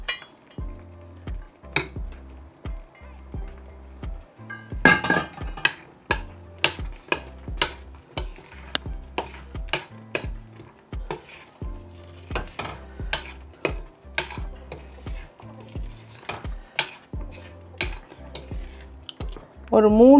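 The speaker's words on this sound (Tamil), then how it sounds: "அந்த நெய்யை அப்படியே ஊற்றணும்" Metal spoon stirring and scraping a pan of pineapple rava kesari as ghee is worked in with cashews and plums, giving repeated sharp clinks and scrapes in an irregular rhythm over a soft, steady tonal background.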